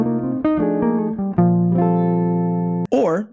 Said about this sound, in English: we can start to make really great sounding diatonic bebop lines